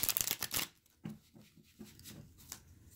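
Tarot cards are handled up close, with a burst of quick riffling and shuffling at first, then several softer slaps and slides as the deck is cut, quiet and with no talk.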